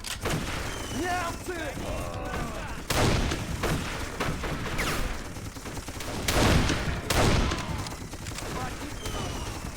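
Gunfire and grenade blasts in the time-travel shooter Darkest of Days: bursts of weapon fire with heavy booming impacts around 3, 6.5 and 7 seconds, under a continuous battle din and shouted voices.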